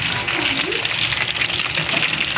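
Chicken frying in a pan, a loud, close, continuous sizzle and crackle of hot oil with no break.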